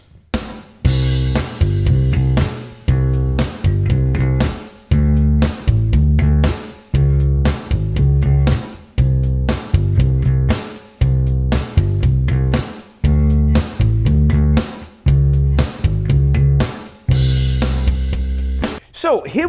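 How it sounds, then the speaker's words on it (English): An electric bass plays a basic root-fifth groove starting on C, with punchy repeated low notes in a steady syncopated rhythm, loud and close, alone without talk. "The first basic groove is going to sound like this."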